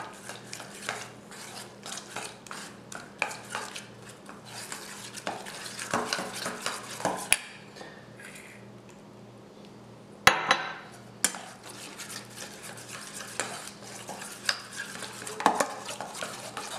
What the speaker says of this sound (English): Now I'm just going to gradually mix in the milk.